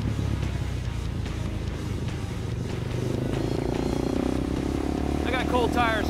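Supermoto motorcycles warm up on the track at Adams Motorsports Park in Southern California. A steady, loud engine drone runs throughout under someone talking, with a few high chirps near the end.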